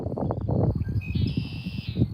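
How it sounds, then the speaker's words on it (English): A red-winged blackbird calls outdoors in Cherry Grove, giving thin, high, sustained whistled tones and a brief buzzy trill over low rumbling background noise. "That's the sound of a red-winged blackbird."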